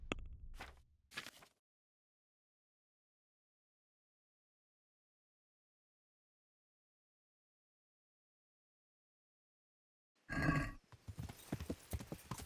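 Horse hooves clip-clop in Kingdom Come: Deliverance, with a whinny, in two loud bursts at the start and end of a long silent stretch.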